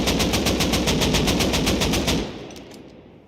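An AK rifle in the console game Rust fires a loud, rapid automatic burst of about a dozen evenly spaced shots, then cuts off and leaves a short fading echo.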